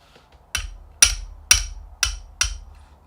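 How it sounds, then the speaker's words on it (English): A fairly heavy hammer strikes a punch or chisel from a US.PRO 1999 punch and chisel set. Five sharp, ringing metallic blows land close together at a steady pace, each with a short decay, and no talk is heard. "while we're talking about hitting these things, I like to use a fairly decent hammer"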